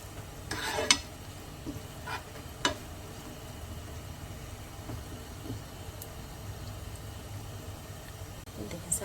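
Dry fruits frying in ghee in a pan, a soft steady sizzle with a few sharp clinks and scrapes from stirring, the loudest near the start.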